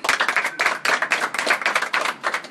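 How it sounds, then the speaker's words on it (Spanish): Small audience at a shop event claps in quick, uneven bursts, close and crisp, with no talking over it. "Un aplauso para Gabo, por favor."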